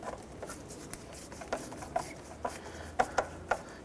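Hose clamps being snugged down on a Ford Ranger's upper intake tube, a series of small scraping, ratcheting clicks growing sharper toward the end, close and quiet with no talking.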